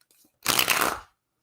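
A deck of tarot cards riffles in one quick shuffle of about half a second, close and fairly loud, between moments of near silence.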